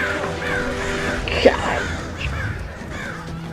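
Crows caw in a film scene about an alien invasion, heard as a few harsh calls mixed with people reacting and talking over the soundtrack.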